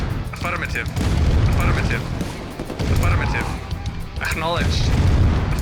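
Booming explosions and bursts of gunfire from the real-time strategy game Command & Conquer: Red Alert (Remastered, Soviet campaign) roll on continuously and loudly, while someone talks over the battle.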